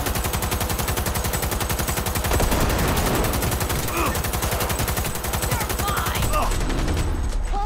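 A big gun in Cyberpunk 2077 fires in a loud, fast, continuous stream of shots that lasts the whole stretch, with some talk faintly mixed in.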